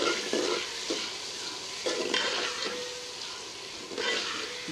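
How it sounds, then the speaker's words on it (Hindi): Half a kilogram of onions frying in hot oil in a home kitchen, a steady sizzling hiss with brief louder bursts as they are stirred, close and alone with no talk. "आधे किलो के करीब मेरे पास प्याज हैं। थोड़ा सा फ्राई कर लेंगे इन्हें।"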